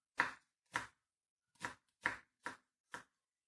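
Garlic cloves chopped finely with a knife on a board for a cabbage soup base, six crisp, separate chops with short pauses, close and clear in a quiet room.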